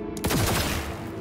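Enemy gunfire in the Cyberpunk 2077 video game: a loud, close burst of rapid shots with a descending ringing tail, dense and booming, with no voices.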